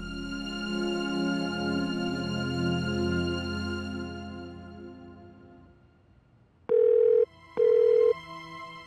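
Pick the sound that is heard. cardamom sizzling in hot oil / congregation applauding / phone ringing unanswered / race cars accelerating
phone ringing unanswered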